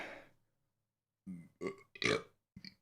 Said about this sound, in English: One sec, I got to burp.